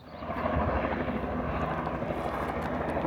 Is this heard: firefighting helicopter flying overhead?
yes